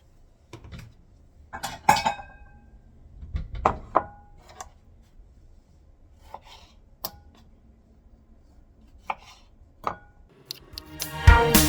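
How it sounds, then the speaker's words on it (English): Knife chopping tomatoes for Hungarian lecsó on a board, heard as scattered sharp taps and scrapes with pauses between them, ending in a louder clattering burst of utensils or dishes. "And lastly, I'm gonna chop the tomatoes."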